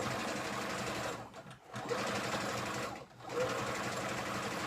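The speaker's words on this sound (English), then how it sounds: "So you just sew through." A sewing machine runs steadily close by as it stitches fabric for ruffle pants, with two brief slowdowns breaking the continuous rapid mechanical whir.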